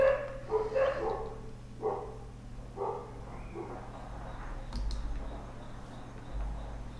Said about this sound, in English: Barking dogs.